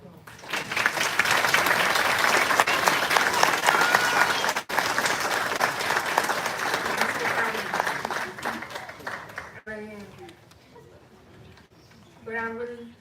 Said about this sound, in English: could everybody give her a round of applause?